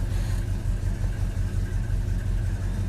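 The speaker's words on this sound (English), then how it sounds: "The tone of the engine changed a little bit" A 1969 Dodge Super Bee V8 idling with a vacuum leak, a steady low rumble with faint uneven pulsing, close and continuous throughout.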